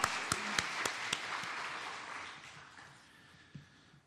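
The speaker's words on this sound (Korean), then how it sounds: "우리 같이 한번 하나님께 영광의 박수를 올려드리겠습니다" Churchgoers give a round of applause offered to God during a service, fairly quiet clapping from the congregation that starts with a few sharp claps and softens and dies away within seconds.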